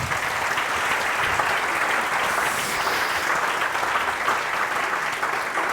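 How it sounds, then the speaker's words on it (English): A conference audience at a PHP developer talk breaks into warm, sustained applause for the presenter, many hands clapping in a loud, even roar that continues without letup. "a warm round of applause for Gina"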